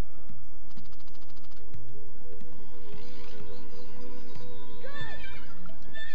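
A horse whinny sounds in the video game Rayman Revolution over busy, loud game music and effects, rising suddenly near the end as a sharp, wavering neigh.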